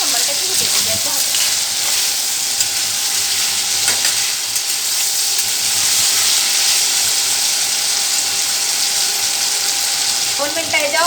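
Potatoes sizzle in a pan while being part-fried for sabudana khichdi, a loud, steady, hissing crackle throughout with faint talk underneath.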